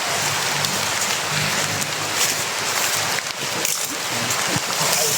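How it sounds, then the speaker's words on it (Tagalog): Heavy rain pours down steadily, a dense hiss of drops drumming on surfaces with no break throughout. "malakas na yung ulan mga tol."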